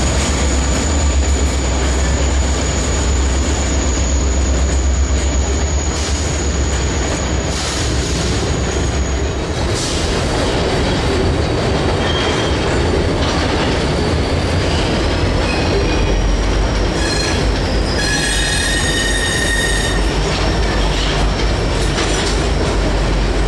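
A Santa Fe Yellow Bonnet SD40-2 locomotive switches rail cars in a rail yard, with a steady loud rumble of rolling cars, wheel clatter and high sustained wheel squeals rising toward the end, no talk.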